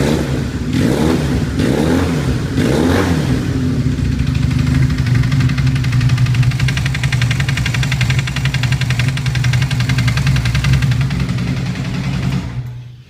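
A Honda CBR 450SR motorcycle engine runs steadily up close with a strange noise, a loud continuous idle with a few revving swells early on, then cutting off at the end.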